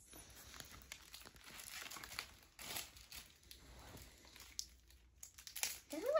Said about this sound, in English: I want to open the sticker.